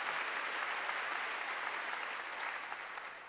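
A church congregation claps together in steady, dense applause that holds throughout and fades slightly at the end.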